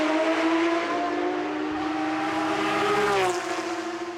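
A Porsche GT3 Cup race car in a Canadian series on Lakeshore Boulevard in Toronto blares past with a loud, sustained high-revving engine note that shifts pitch near the end as it draws away.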